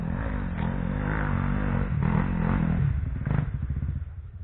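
A Yamaha YZ 250 dirt motorcycle engine runs close by, its rough, throaty exhaust note rising and falling through a few revs before settling into a choppy idle.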